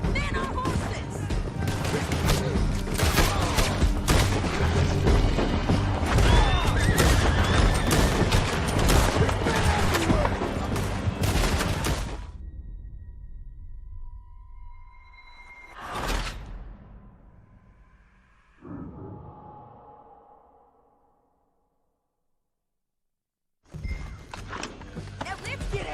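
Red Dead Redemption 2 gameplay: a dense stretch of gunfire and hooves from riders on horseback, loud and sustained, then it drops to near silence broken by a few whooshes and rumbles before the din returns.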